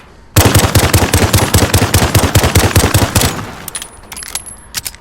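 An M9-style pistol in Call of Duty Modern Warfare fires a rapid string of about twenty loud, sharp shots, then a few scattered softer clicks and shots follow near the end.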